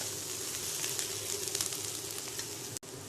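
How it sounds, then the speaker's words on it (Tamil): Chopped large onions fry in a pan with a steady, close sizzle, faint stirring scrapes now and then, and a brief dropout near the end; no one speaks. "கட் பண்ணி வச்சிருக்கிற பெரிய வெங்காயத்தை போட்டுக்குங்க. நல்லா கிளறி விடுங்க."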